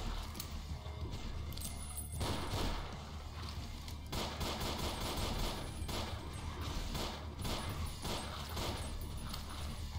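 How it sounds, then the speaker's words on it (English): Gunfire in the video game Ashes 2063, with repeated shots and bursts spread across the whole stretch over a busy game soundscape, some louder hits near the middle and later on. "I'm being shot at."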